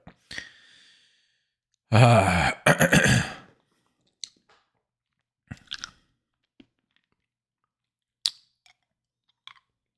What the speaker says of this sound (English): I'll be clearing my throat throughout and coughing and blowing my nose.